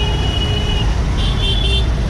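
A scooter ridden on a main city road accelerates through traffic, its engine hum blending into steady roadway noise with car horns tooting nearby.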